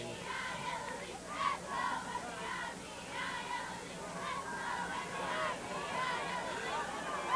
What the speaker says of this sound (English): that's the Somerville Highlander cheerleaders cheering on their Highlander team